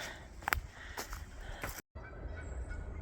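Geese honking in the open near the New River on a spring Appalachian Trail hike, several loud calls at the start, then a brief gap and softer outdoor ambience.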